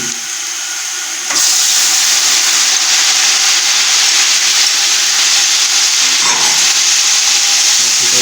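Chopped tomatoes drop into browned onions in a cooking pot for beef yakhni pulao, setting off a sudden loud, steady sizzle with a burst of steam-like hiss that carries on continuously and close up, with no talking.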